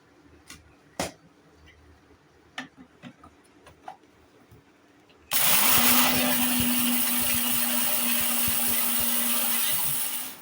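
Fried green chillies ground into powder in a mixer grinder: a few clicks and taps first, then the motor starts abruptly and whirs loudly and steadily for about five seconds before cutting off.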